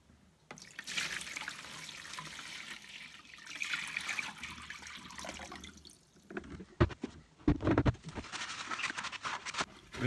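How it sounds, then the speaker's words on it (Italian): Water swishing and sloshing inside the container of a Parkside PNTSA 20-Li A1 cordless vacuum, with gurgling splashes that grow choppier toward the end, close by and without speech. "Questa è l'acqua all'interno del contenitore."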